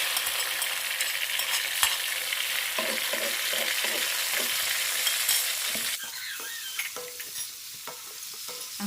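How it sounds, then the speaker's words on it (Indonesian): Blended chili and ground spice paste stirred in a hot oiled pan, sizzling steadily up close with the scrape of a spoon, then settling into a quieter, crackling fry in the last few seconds. "Aku aduk kembali hingga berbau wangi, hingga aromanya begitu enak dicium."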